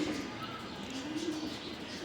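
Pigeons in a coop give a low, soft, drawn-out coo beneath a faint background hum, fairly quiet and without talking.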